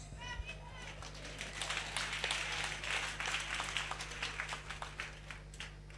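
Audience applause in a church gathering, a fairly light, scattered clapping of moderate volume lasting several seconds, with voices and crowd murmur mixed in.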